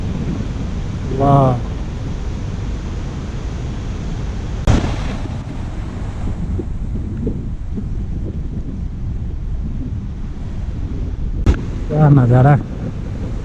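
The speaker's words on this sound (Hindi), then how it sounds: "दूध की तरह एकदम दूध सागर जैसा पानी, और आवाज़ सुनो भाई" Milky-white mountain river water in Himachal Pradesh rushes with a loud, constant broadband roar that continues throughout, while someone briefly speaks near the start and again near the end.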